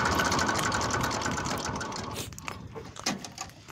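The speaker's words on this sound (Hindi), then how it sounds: "देखिए कितनी प्यारी आवाज थी ट्रैक्टरों की।" Two Massey Ferguson 35 tractor engines run steadily at close range, a dense rattling drone that eases and turns choppier toward the end.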